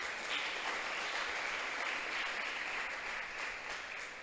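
A church congregation applauds during a worship service. Sustained, even clapping carries on at moderate volume for the whole stretch with no voice on top.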